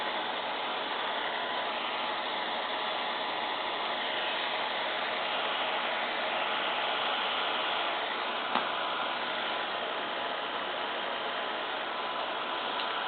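A heat gun blows steadily for the whole stretch, a loud, even rush of hot air used to shrink nylon into flowers for doll shoes, with one tiny click partway through and no voices.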